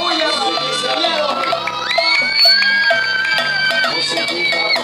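Loud party crowd cheering, whooping and shouting continuously at a fifteenth birthday celebration at Brisas del Lago in Maracay, with many overlapping voices close by throughout.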